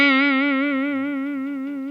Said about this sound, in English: here's what like out of place wide vibrato, where you deviate from the pitch a lot, might sound like.